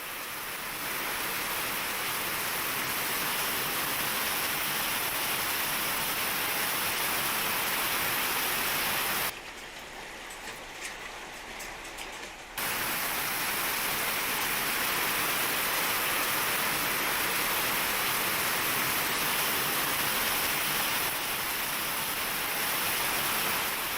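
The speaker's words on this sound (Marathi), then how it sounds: "अचानक आलेल्या या पावसामुळे वातावरणात गारवा निर्माण झालाय" Sudden rain in Maharashtra pours in a steady, dense hiss throughout, dropping briefly to a quieter stretch midway before the heavy wash resumes.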